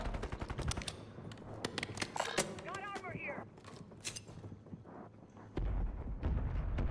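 Rapid bursts of automatic gunfire and single shots ring out in a shooter video game, dense and close, with game sounds and a player's voice talking over them.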